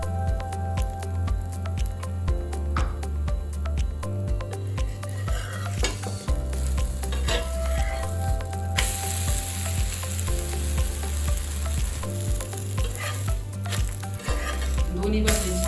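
Jowar flour dhirde fries in oil on a pan with a loud, steady sizzle and bubbling, along with occasional scraping and soft squishing sounds from a spatula.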